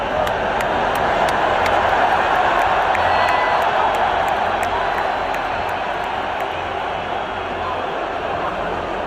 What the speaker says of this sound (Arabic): هتاف آلاف المشجعين في المدرجات باسم فلسطين الغالية لأول مرة في تاريخ كأس العالم